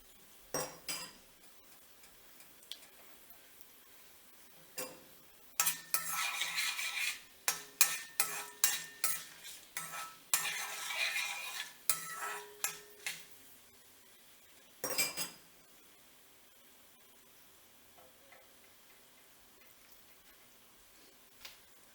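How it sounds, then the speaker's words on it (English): Spices sautéing in a pan for a quick fish curry, with a spoon scraping and stirring in clustered bursts over a faint, soft sizzle, close and quiet, with gaps of near silence between stirs. "Just wanna saute this a little bit so it gets toasted and wakes up a little bit."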